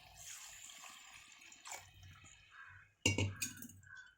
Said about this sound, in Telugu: ఈ టైంలో కొంచెం వాటర్ పోసేసుకోవాలి